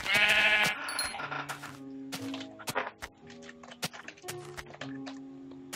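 Sheep bleating in the Minecraft video game, several loud nearby bleats and thunks over a steady synthetic tone, with no speech.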